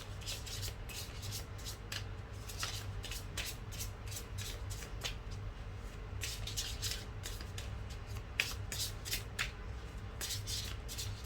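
Tarot cards being shuffled and drawn by hand, a steady run of crisp riffling and sliding bursts close up, repeating in quick rhythmic strokes with a faint low hum underneath and no talking.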